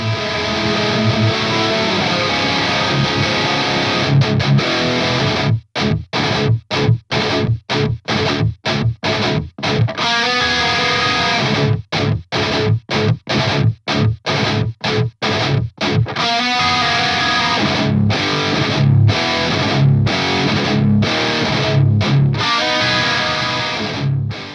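Crunchy, distorted electric guitar rhythm riffs play through an EVH 5150III 50W 6L6 amp, with choppy palm-muted stabs and sharp stops between chords, then sustained ringing chords, loud and steady throughout.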